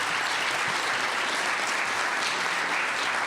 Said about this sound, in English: So, while I appreciate the applause